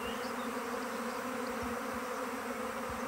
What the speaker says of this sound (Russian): там рой летает